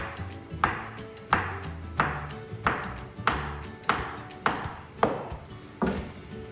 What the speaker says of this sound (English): you're going to take your knife and you're just going to cut about 1 centimeter apart of each